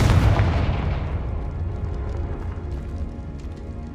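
A Confringo blasting spell in Hogwarts Legacy goes off as one loud, close explosive boom that rolls away into a long fading rumble, with no talk over it.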